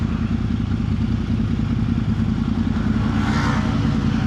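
Yamaha R1 motorcycle engine braking through downshifts: a steady, loud low engine drone heard from the rider's position, with a brief higher rise near the end, and wind noise throughout.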